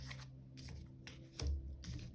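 Tarot cards being shuffled and drawn, soft papery riffles and slides in short bursts with one firmer thump as a card lands, close and quiet.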